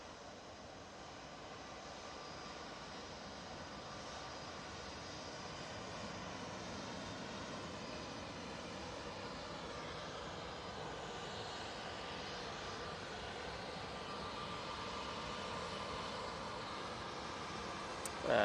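An orange Jet2 airliner arrives at Manchester Airport, its engines producing a steady, broad roar that holds at an even level throughout, with a faint click at the very end.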